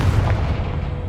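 Confringo fire spell explosion in Hogwarts Legacy, a brief loud booming blast with a deep rumbling low end, heard alone.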